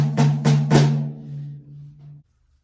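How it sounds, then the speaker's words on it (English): Three snare drum strokes land right over the centre of the head in quick succession, close and bright, followed by a lingering drum ring that fades out over about a second. "But then when I play right over the top of the snare,"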